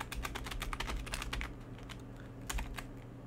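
Quick typing on a computer keyboard, close and fairly soft, with clustered keystrokes, a short pause and then a few more taps.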